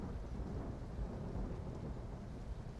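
Thunder and rain from a weather mod in the video game Garry's Mod, a deep rolling rumble over steady rainfall, fairly quiet and with no talking.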